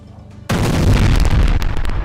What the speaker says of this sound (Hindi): बड़े धमाके के साथ ये पुल टूट गया जिस पर यह हमला किया गया